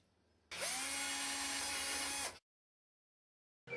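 A power drill bores out stainless steel saddles for a wire balustrade, producing a single loud, high whirring burst of about two seconds that stops abruptly into silence.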